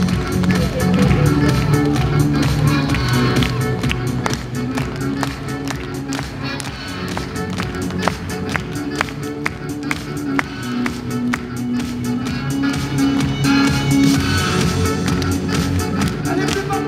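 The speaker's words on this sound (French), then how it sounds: "J'ai même pas le temps de dire applaudissements, mesdames et messieurs, pour Jocelyn." An audience at a magic show claps along, a long run of quick, rhythmic hand claps over music and crowd noise, with voices mixed in.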